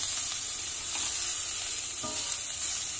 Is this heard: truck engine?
no